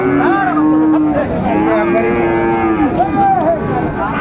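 A Friesian cross bull at a busy cattle market lets out several loud, close, drawn-out moos, with lowing from other cattle and crowd murmur behind.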